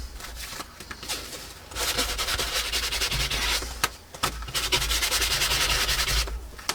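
Sandpaper rubbed by hand across a handmade journal to distress it, a steady close abrasive scratching in long continuous strokes with brief pauses, no talking.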